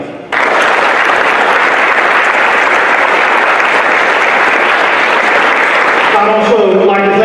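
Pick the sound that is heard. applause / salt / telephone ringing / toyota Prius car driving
applause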